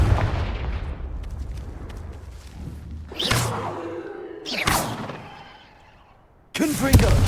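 Confringo blasting spells explode in the video game Hogwarts Legacy: three sharp whooshing blasts in a row, each with a booming tail, over a rumbling background, the last one loud.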